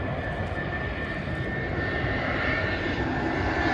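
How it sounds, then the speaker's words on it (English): A fixed-wing airplane passes overhead with a steady, broad engine roar that stays loud and continuous throughout. It is heard outdoors, with no speech over it. "there's the plane"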